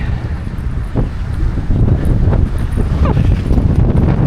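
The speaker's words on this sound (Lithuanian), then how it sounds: "Kokia aš laiminga, kad nereik minti priešais šitą vėją" Strong headwind buffeting a microphone while cycling on an Australian road, a loud continuous low roar with gusting surges throughout.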